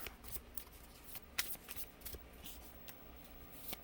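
Oracle cards are shuffled by hand in quick, soft riffling bursts and light papery slaps, close and quiet, with brief pauses between flurries.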